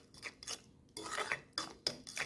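A utensil mixes banana fritter batter with salt, cinnamon and nutmeg in a bowl, giving quiet, irregular clinks and scrapes against the bowl in short bursts.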